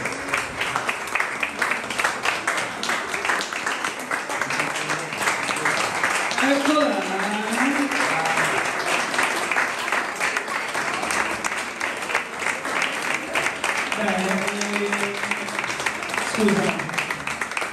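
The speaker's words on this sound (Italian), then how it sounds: "applauso, un applauso, un applauso, Bravo, bravo." Sustained applause from an audience at an Italian evening event at Porto Palermo Castle, Albania, with voices calling out and talking over the clapping throughout.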